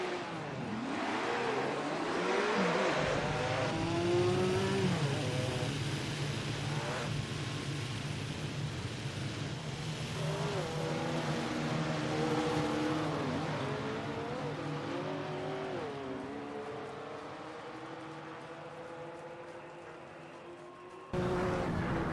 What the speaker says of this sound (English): Instantly, the heavy roadsters pull away on pure acceleration.